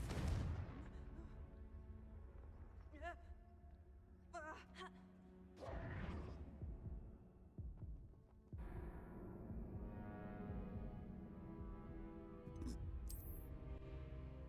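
A Confringo blast curse in the Hogwarts Legacy video game, heard as several deep, booming explosive bursts over a low rumbling game soundscape, with a quieter whooshing swell near the end.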